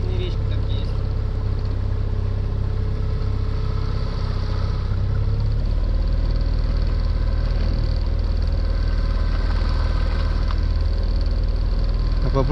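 Small outboard boat motor running steadily while pushing against the current on a narrow forest river, a close, continuous low engine drone that shifts pitch partway through, with water noise and faint voices mixed in.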